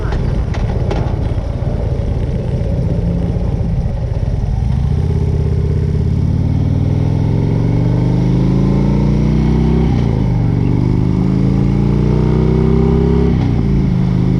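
Motorcycles ride out from a Route 66 moto meetup, their loud engines rumbling and rising in pitch as they accelerate, with passing revs close by and a steady roar throughout.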